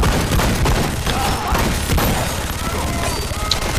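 Rapid gunfire and blasts from a Kowloon-by-night firefight in The Expendables 2 video game, a dense continuous clatter of shots with booms mixed in, loud and steady throughout.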